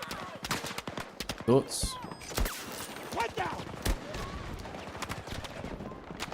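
Rapid GW46 gunfire from the Battlefield video game crackles in quick bursts of sharp shots, with one louder blast partway through and a voice speaking briefly over the shooting.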